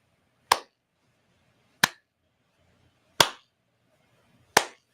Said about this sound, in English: I want to slow clap.